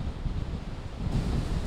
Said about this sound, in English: This is by far the most kind of intense water action that we've seen, and some of the highest wind gusts as well.